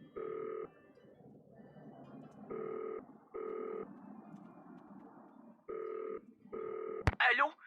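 Telephone keypad dialing tones in a Nancy Drew video game, five short, evenly pitched beeps in irregular spacing over a quiet room hum, ending in a sharp click and a brief rising electronic sound.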